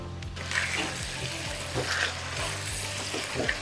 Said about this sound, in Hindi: थोरो हिन खे चिमचो हलाईंदासीं